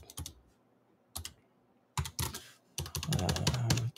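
Typing on a computer keyboard while setting up a Windows 11 on ARM machine: close, crisp key clicks in short bursts separated by pauses, then a denser run of rapid keystrokes near the end.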